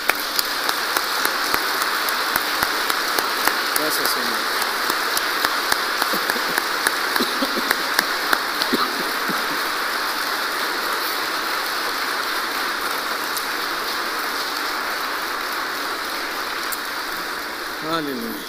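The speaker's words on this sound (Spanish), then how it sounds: "Vamos a darle un fuerte aplauso al Señor." A church congregation applauds and praises the Lord during a Spanish-language sermon, steady dense clapping like rain filling the whole stretch, with a brief spoken phrase over it.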